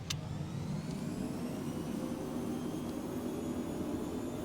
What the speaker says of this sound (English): Let me give you guys some more cabin, or excuse me, airplane sounds.